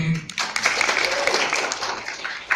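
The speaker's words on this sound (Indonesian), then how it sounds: "Boleh tepuk tangan kali ya" Audience at an affiliate marketing presentation breaks into short, steady applause, a dense wash of clapping filling the brief moment.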